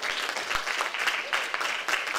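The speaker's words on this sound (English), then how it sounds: "could we have a big round of applause for Amy?" An audience at an academic conference applauding a speaker, dense steady clapping from many hands filling a room, moderately close and continuous throughout.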